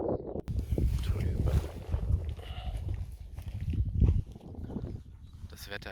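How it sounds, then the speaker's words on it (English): Gusty wind buffets the microphone in steady low rumbling waves with brief swells, out on the open Camino meseta between Burgos and Hontanas, with no voices. "It's a bit windy"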